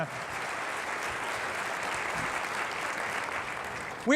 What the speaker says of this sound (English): Give Thomas a round of applause